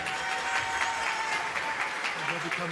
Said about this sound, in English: A big round of applause for Oliver.